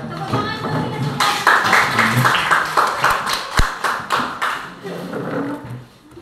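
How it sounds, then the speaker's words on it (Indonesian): A school class claps along together indoors, a burst of rhythmic hand claps and taps building and then thinning out, with a voice briefly speaking over the start. "Tepuk tangan untuk kita semua."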